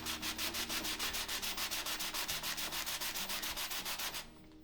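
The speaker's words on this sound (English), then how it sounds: "now I'm moving on to 400 grit sandpaper" Wood hand-sanded with 400 grit sandpaper on a sanding block makes a quick, even rhythm of rasping back-and-forth strokes. They are close and steady for about four seconds, then stop abruptly.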